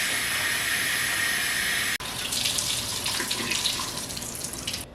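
Chicken skin is rinsed under a running kitchen tap, a steady close hiss of flowing water that briefly cuts out and resumes with more splashing and spattering.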